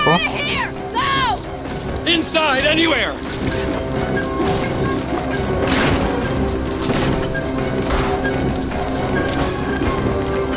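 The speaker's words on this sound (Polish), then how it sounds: "Kolejny samochód rozwalony w tym odcinku." A car smashing apart in the Lego Jurassic World video game, clattering crashes and breaking Lego pieces among game effects and music, with a person talking over much of it.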